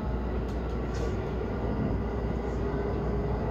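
Steady, even rumble of a rapid-service train in Japan running at reduced speed between Suma and Hyogo, with a continuous low drone and faint rail noise throughout.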